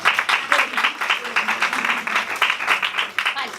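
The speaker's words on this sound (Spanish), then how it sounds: "vamos a darle un aplauso" A small audience in a public speaking class claps for a participant, a fairly close, ragged run of individual claps with an uneven rhythm that keeps going without a break.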